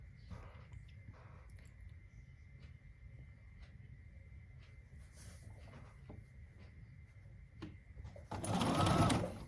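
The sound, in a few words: sewing machine stitching a quilt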